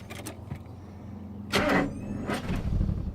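A vehicle's starter cranks as the ignition key is turned after a roadside ignition points repair. Two short bursts of whirring cranking stand out against a quiet background, the second longer and rougher.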